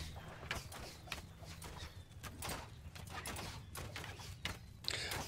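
Cavalry horses galloping in the video game Mount and Blade Bannerlord, a steady stream of hoofbeats and thuds at moderate level, with faint bird chirps in the room behind.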